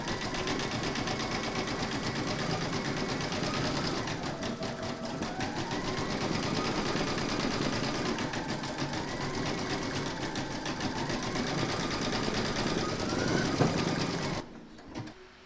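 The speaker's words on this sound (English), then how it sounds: "Pop your hoop into your machine and stitch round number 11 to secure it." An embroidery machine stitches an appliqué cross design, its needle running in a fast, steady mechanical buzz close up, continuing without pause before stopping abruptly near the end.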